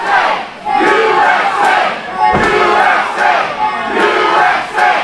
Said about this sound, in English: Crowd getting behind the rookies.